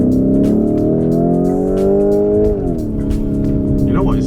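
Lamborghini Urus pulling away, a loud close engine roar that holds steady and then shifts pitch as it changes gear, with brief tire noise near the end.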